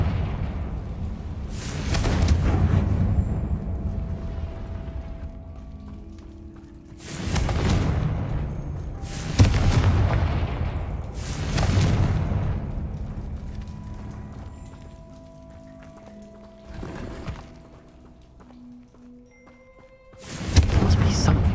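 Deep booming blasts in a Harry Potter video game as the Confringo fire spell explodes, several heavy rumbling impacts spaced seconds apart, each decaying slowly, with quieter stretches between.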